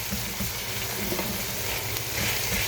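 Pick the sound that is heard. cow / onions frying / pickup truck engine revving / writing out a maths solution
onions frying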